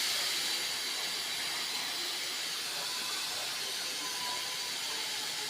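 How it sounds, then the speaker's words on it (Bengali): A pressure cooker on a stove, cooking beef head meat with potatoes and water, hisses steadily with escaping steam, a continuous loud rushing hiss that holds for several seconds without break. "এখন প্রেশার কুকারে ঢাকনাটা লাগিয়ে দিব, সিটি দিব 5টা"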